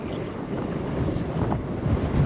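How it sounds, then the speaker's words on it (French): Strong wind at Song-Kul lake buffets the microphone, a steady low rushing roar with gusty swells, close and continuous, no speech. "il y a trop de vent"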